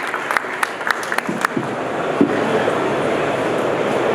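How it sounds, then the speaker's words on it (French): An audience at an installers' trophy ceremony applauds award winners. Scattered claps open, then the sound swells into a dense, sustained roar of clapping. "on peut encore les applaudir"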